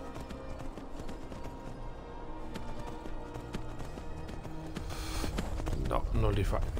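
A horse gallops in Skyrim, its rapid hoofbeats blending with game music and ambient sound that swells louder toward the end, and someone talks over part of it.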